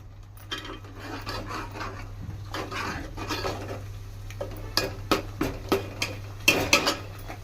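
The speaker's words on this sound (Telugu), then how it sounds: "చూడండి ఎలా ఫ్రై అవుతుందో." Masala and chopped brinjal frying in a pan for a village-style brinjal and egg curry, with a spoon scraping and clinking against the metal in irregular strokes over a steady low hum.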